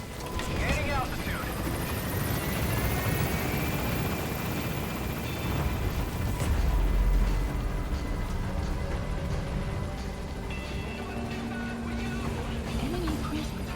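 Extraction helicopter in the video game Metal Gear Solid V, a constant rotor roar and whooshing wash filling the scene, fairly loud and steady, with game voices speaking over it.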